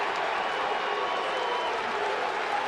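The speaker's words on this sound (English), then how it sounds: "And the crowd going nuts on the takedown there by Gabe Dean." An arena crowd at an NCAA college wrestling quarterfinal roars and cheers after a takedown, a steady, fairly distant wall of crowd noise with some clapping mixed in.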